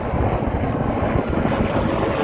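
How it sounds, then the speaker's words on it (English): A loud helicopter flies overhead near the Manhattan waterfront, a dense, constant rotor and engine roar dominating throughout with no talk. "Oh, another loud helicopter."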